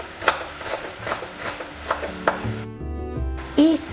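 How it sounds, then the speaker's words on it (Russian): Repeated knife strikes on a cutting board finely chopping celery stalks, irregular chopping taps close by, followed by a brief clatter and a short squeaky sound near the end. "Несколько веточек сельдерея он мелко нарезает."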